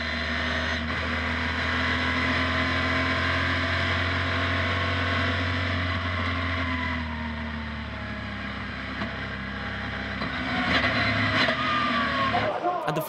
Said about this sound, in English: Let's ride on board with Jerome Saron Junior Trophy's leader, Jan Zimmer, who overtakes Anthony Garbarino at the restart to take fifth.